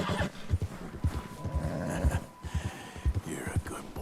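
A horse in Red Dead Redemption 2 whinnies during a ride, its calls rising over rhythmic hoof and movement sounds, with a voice speaking throughout.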